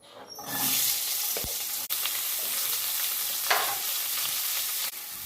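Sliced onions for a stuffed brinjal curry sizzle loudly in hot oil, a dense continuous crackle with occasional sharp scrapes and knocks as they are stirred around the pan, no voices.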